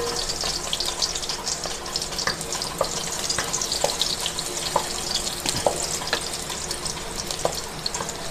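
Onion and garlic sauté in a pan for a shrimp and bottle gourd rice-noodle dish, giving a steady close sizzle with scattered crackles and light utensil clicks, no talking.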